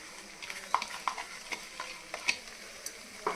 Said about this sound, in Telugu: ఇవి బాగా ఫ్రై కావాలండి మంచిగా.